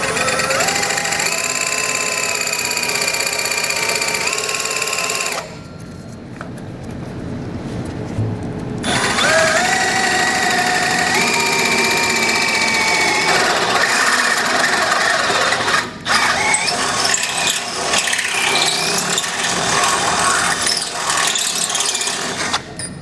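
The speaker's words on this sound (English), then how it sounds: "we're going to drill a hole right into the bottom of our frame" A power drill bores a hole into the underside of a 2015 Ford Taurus frame while a base plate is fitted, giving a loud continuous whine broken by a short pause and a brief stop later on.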